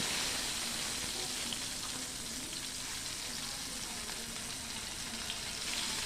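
Fish heads fry in hot oil with a steady, even sizzle that holds at a constant level throughout, close up and without talk.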